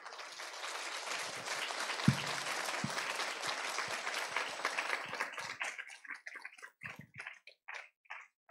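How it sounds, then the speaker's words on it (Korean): Audience at a church Bible seminar claps to welcome a professor to the podium, dense applause thinning into a few scattered, separate claps near the end. "나오실 때 환영의 박수를 쳐주시면 감사하겠습니다"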